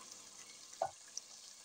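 Green peas frying in a pan for qeema matar give off a faint, steady sizzle, with one soft clink of a utensil near the middle and no talking.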